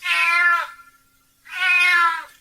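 A tiny kitten meowing plaintively outside a door, two drawn-out, high, wavering cries separated by a short silence, clear and close with nothing else heard.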